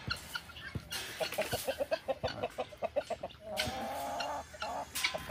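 Chickens and a rooster in a farm coop, a run of rhythmic clucks in quick succession with a couple of louder squawks, fairly close and quiet, no talking.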